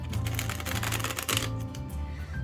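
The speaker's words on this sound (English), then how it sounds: "I feel I need to shuffle it again" Rapid, dense riffling and clicking as a deck of tarot cards is shuffled up close, continuous for a couple of seconds with a low hum underneath.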